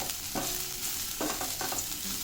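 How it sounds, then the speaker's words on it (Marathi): Spices for a soybean curry masala roast in a dry pan, a steady soft sizzle with several scraping stirs of a spatula, close and without talk. "बस आता हे भाजून घेऊ आपण"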